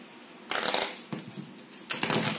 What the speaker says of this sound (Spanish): Vamos a barajar.